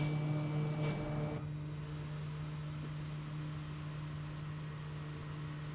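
A small turboprop, a Cessna Grand Caravan, taking off in a flight simulator game, with a steady droning engine tone and strong low hum, louder at first and then settling into a quieter constant whine.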